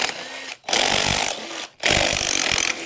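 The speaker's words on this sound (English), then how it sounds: "and then took off all the lug nuts" Two loud bursts of a power tool spinning off lug nuts on an Ariens snowblower's wheels, each buzzing steadily for about a second, with a short pause between them.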